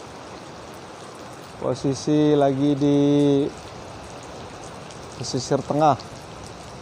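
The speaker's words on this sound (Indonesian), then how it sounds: "Hujan dari mulai berangkat sampai sekarang belum reda." Steady rain falls outdoors on the Pesisir coast in Indonesia, where spotted doves are being trapped. The dense, even patter fills the whole stretch, and someone speaks briefly over it twice.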